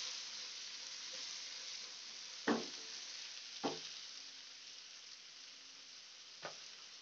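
Turmeric frying in a pan for soya keema makes a faint, even sizzle, broken by three soft spatula taps against the pan, quiet and close with nothing else heard.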